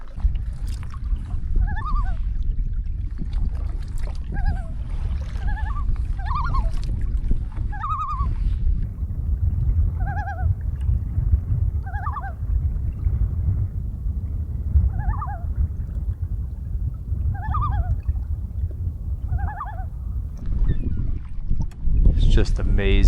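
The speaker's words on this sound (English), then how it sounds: "it's hard to stop paddling in nice calm conditions like this" Steady paddle strokes from a solo canoe moving across calm water in the Labrador wilderness, a soft regular rhythm of splashes and drips about every two seconds over a constant low outdoor rumble.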